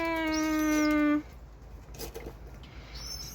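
A pet bird, Nanners, gives a food call: a sustained, loud, whistled tonal cry lasting about a second, followed by quieter rustling and faint chirps nearby.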